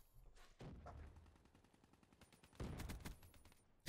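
Rapid gunfire from Call of Duty Black Ops 3 gameplay: two bursts of several quick shots, the second louder and denser, with a quiet gap between them and no talking.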